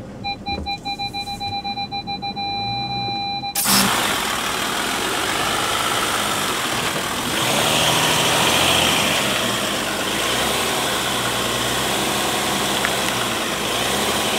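Electronic beeping repeats for a few seconds, then a Volkswagen Amarok V6 pickup engine takes over, rumbling loudly and revving as it slowly climbs onto an off-road ramp.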